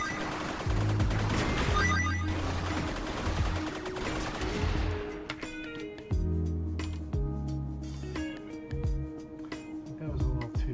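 Rapid bursts of gunfire from the video game Angry Teapots crackle over a busy layer of synthetic game effects and music, loud and steady throughout, with repeated shot patterns continuing after the game's backdrop thins out midway.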